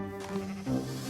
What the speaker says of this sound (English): Let's take this sheep.